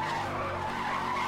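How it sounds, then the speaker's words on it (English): A car drifting in Need for Speed Hot Pursuit Remastered, its tires squealing in one loud, steady skid over the engine roar, brief and close. "Look at that drift, baby!"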